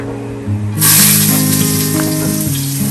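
Ginger hits a hot pan and bursts into a loud, close sizzle that holds steady and continuous, with faint music running underneath.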